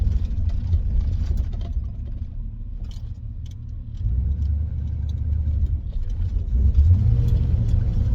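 A slightly cold 1983 Chevy car engine accelerating with a deep, steady low rumble that swells toward the end, close and loud, with no talk.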